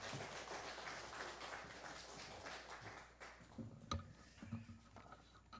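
A church congregation claps for the pastor, a soft, dense patter of hands heard from a distance that thins out into scattered, isolated claps toward the end.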